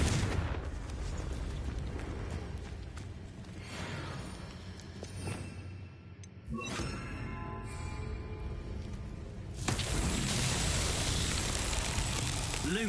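Confringo blasting spells in Hogwarts Legacy go off as a series of heavy booming explosions, rumbling and crackling through the whole stretch with a louder burst near the end.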